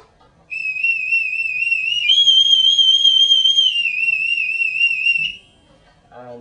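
A single long, loud backstage theatre whistle call signalling crews hauling lines holds a high note for about five seconds, stepping up slightly in pitch midway before dropping back and stopping.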